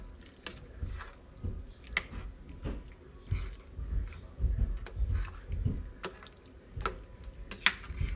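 A spoon stirs a pot of American goulash with pasta, giving close, soft squelching and wet clicks in an uneven repeating rhythm, faint and steady throughout.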